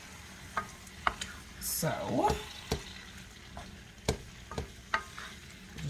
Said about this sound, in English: I put very cold shrimp in a hot pan